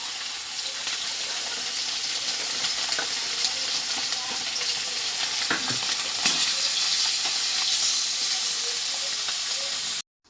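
Fish frying in a pan in a home kitchen makes a loud, continuous close sizzle with a bright hiss and scattered crackles, running steadily for about ten seconds before cutting off abruptly, with no voices.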